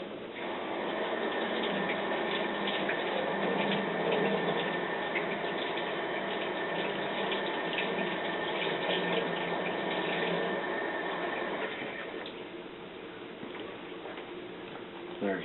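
Tap water runs steadily over onions being rinsed, a continuous splashing stream that eases and thins out near the end.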